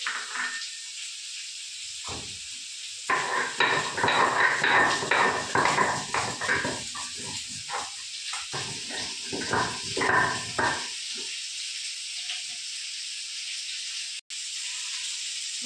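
Ridge gourd frying for a vegetarian jhinge posto gives a steady hiss of sizzling oil throughout. In the middle stretch, loud clattering and grinding from kitchen work partly masks it.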